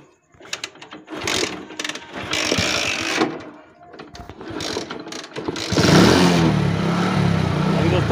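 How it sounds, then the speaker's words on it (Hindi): A motorcycle converted to run on LPG gas idles steadily after starting, its engine chatter close and continuous, with a louder, fuller rumble building toward the end. "तो गैस पे स्टार्ट हो गया ये,"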